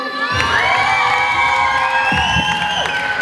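A crowd at a street dance battle jam roars, with high shrill shouts, whoops and cheering layered into a loud, sustained din that carries on for the whole clip.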